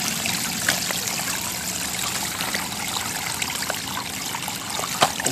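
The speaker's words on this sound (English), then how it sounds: "See some flowing water there." A small woodland stream trickles and burbles steadily nearby, a continuous close water flow with occasional splashy ticks and no talking.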